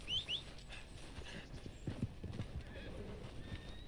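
Hooves clip-clop along with a brief whinny from a horse in Red Dead Redemption 2, fairly faint in the game mix, with some talk over the top.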